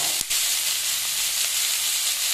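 Crushed unpeeled garlic, chopped ginger and finely chopped onion sauté in hot oil toward browning, giving a steady loud sizzle that runs without a break, with one brief clatter near the start.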